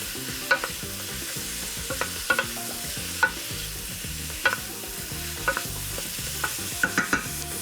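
Broccoli and other vegetables sweating in fat in a pot, giving a steady close sizzle broken by repeated sharp clicks and knocks of a utensil stirring against the pot, with no talking.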